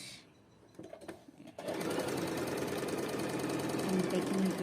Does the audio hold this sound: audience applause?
no